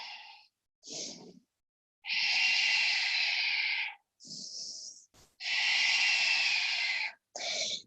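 Deep breathing during a hatha yoga session: long, loud, hissing inhales and exhales alternate with shorter breaths, close up and with no talk.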